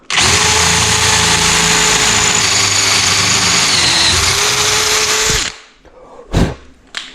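A power drill bores a second hole for an insert in a 2014 KTM 690 motorcycle fork, whining loud and steady for about five seconds before spinning down, followed by a few faint clanks.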